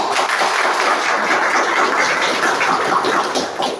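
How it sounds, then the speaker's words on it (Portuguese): Dense, continuous applause from an audience at a regional sector event in Sento Sé, Bahia, cheering a team after a quiz answer, a steady broad roar of clapping with no pauses. "vamos dar uma salva de palmas para a equipe"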